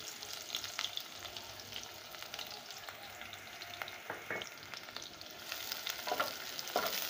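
Thinly sliced onions frying in oil in a pot for a salted mutton dish, a soft, steady crackling sizzle with occasional stirring clicks, fairly quiet and without speech.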